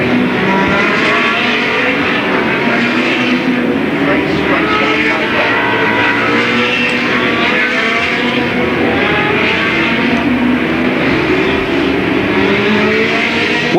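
Late model stock race cars roar past at Louisville Motor Speedway in Kentucky, a loud continuous engine drone of several cars at speed, with an announcer talking over it.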